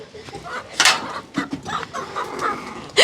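Leghorn chickens and roosters cluck and squawk close by on a farm, with sharp bursts and a loud crow-like call near the end, while people talk briefly.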